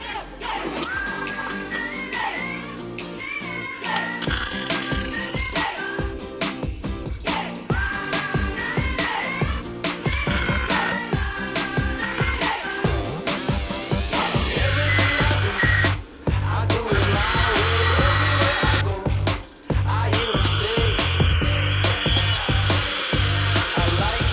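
Angle grinder grinding off welds on a car chassis during outrigger repair, a loud harsh whine in repeated bursts with changing pitch as the disc bites the metal, close up.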